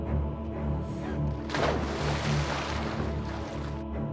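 Sea waves wash around a yacht stopped in the middle of the open sea, a steady rolling surf with a louder swell of water midway, under a constant low rumble and a little wind.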